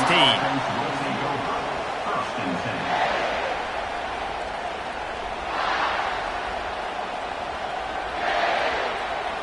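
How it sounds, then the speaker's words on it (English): Stadium crowd in an NCAA college football video game roars steadily in the background, swelling in a few surges, while a commentator talks over it. "This crowd trying to show them what it's going to be like all day in this house."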